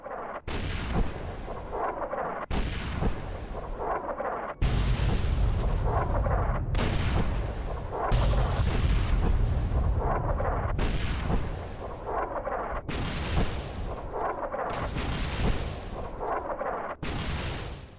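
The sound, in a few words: bombardment in video game Fallout New Vegas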